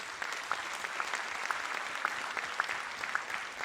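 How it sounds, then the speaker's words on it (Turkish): Steady applause from a television talent-show studio audience, dense clapping filling the whole stretch at an even level, with no voices over it. "Nihat Beyan'ı alkışlarınızla davet ediyoruz."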